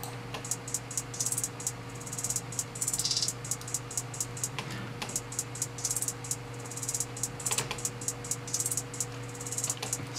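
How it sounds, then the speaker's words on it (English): A programmed hi-hat pattern with increasing velocity ticks in rapid, steady electronic bursts over a sustained low tonal bed, the crisp hits pulsing evenly throughout with no voices. "it just gives your hi-hats a bit more of a unique sound"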